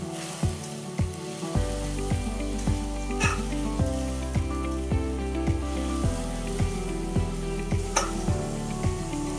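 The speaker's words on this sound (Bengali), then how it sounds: "এটাকে ভালো করে কষিয়ে নেব।" Potatoes sizzle in a pan as they are sautéed for alur dom, a steady frying hiss lying under louder background music with a regular beat throughout.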